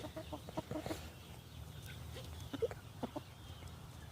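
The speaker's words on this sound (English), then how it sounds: "chickens are going to gorge themselves on whatever bugs they can get" Chickens cluck and peck intermittently at close to moderate distance while feeding on fly larvae outdoors, scattered short calls over a quiet background.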